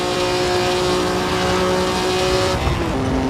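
An F3 single-seater race car in Assetto Corsa held near the top of its rev range in third gear climbing a hill, a loud sustained high-pitched engine whine with a brief dip and shift near the end.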